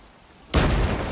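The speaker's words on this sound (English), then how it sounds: "Grenade." A Battlefield 3 grenade goes off after a quiet lead-in: one sudden, loud, close blast whose heavy rumble sustains to the end.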